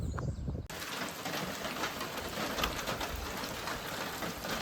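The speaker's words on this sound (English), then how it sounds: "So it started raining more or less for real." Steady, dense rain patters on a forested Appalachian Trail hiking route, a close, continuous wash of drops with no talking, beginning with a brief shift in sound just under a second in.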